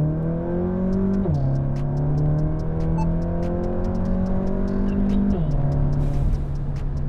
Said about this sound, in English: So we're gonna do a quick little third gear. I wanna show you how fast these things shift.